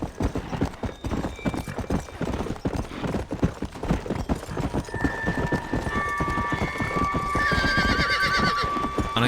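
A horse gallops in Red Dead Redemption: Undead Nightmare, its rapid hoofbeats pounding in a steady, close rhythm, with a whinny and a rising whistle-like tone near the end.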